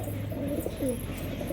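Domestic pigeons coo softly and closely while coming to drink water after being given medicine, with a few low rolling calls over a quiet background.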